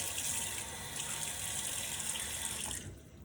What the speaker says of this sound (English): So, get my face wet here,